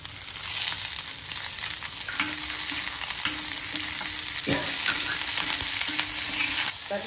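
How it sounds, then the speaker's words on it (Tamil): Radish, onion and tomatoes fry in oil for a chutney, with a steady close sizzle and periodic scraping stirs. A faint tone hums in the background and nobody talks. "இப்போ ஒரு திருப்பி விட்டு போட்டு நான் 2 தக்காளி கட் பண்ணி வச்சுருக்கேன்."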